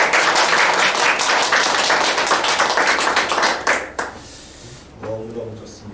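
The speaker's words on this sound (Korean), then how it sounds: "서로 박수 가지고" A church congregation applauds one another during a worship service, a dense burst of clapping for about four seconds that then fades as a voice speaks over the quiet.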